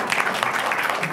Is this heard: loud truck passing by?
no